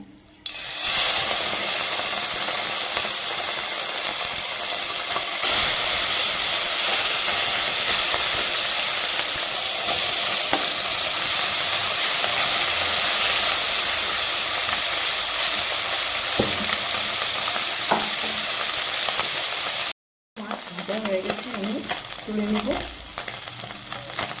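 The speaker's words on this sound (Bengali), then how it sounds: "বাকি মাছগুলো আমি ভেজে নেবো" Small fish fry in hot oil with a loud, continuous sizzle and hiss that fills most of the stretch, broken briefly near the end, with a little stirring and faint talk.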